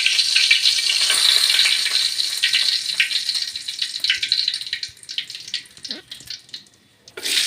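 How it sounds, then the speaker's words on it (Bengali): Whole cardamom pods, cinnamon stick and bay leaf sizzle in hot oil for a vegetable pulao, a steady bright crackle that holds close and loud, then thins into sputtering pops and briefly drops away near the end. "তেলটা গরম হয়ে আসলে আমরা গরম মশলা দিব। 2টো এলাচ, দারচিনি এবং তেজপাতা।"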